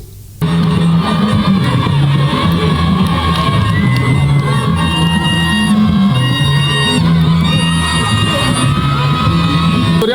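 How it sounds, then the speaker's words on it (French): A large, dense crowd cheers and yells in welcome for the Prime Minister, head of government, at a public rally during the political transition. The noise is loud and sustained, with shouts and whoops rising over a steady roar. "le Premier ministre chef du gouvernement est accueilli par une foule nombreuse"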